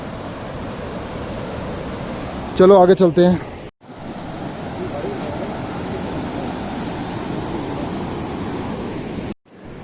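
Steady rushing water roars throughout, a broad constant wash of the Mandakini River and mountain waterfalls nearby on the Kedarnath trail, with a brief spoken line cutting in early.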